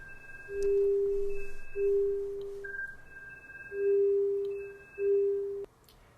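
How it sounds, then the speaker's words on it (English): Audio feedback tones from an Amazon Echo Show placed near a security camera: a clear, steady pure tone repeating in four swelling bursts with faint higher overtones, loud against a quiet background. "that feedback sound you hear emanated from the Echo Show"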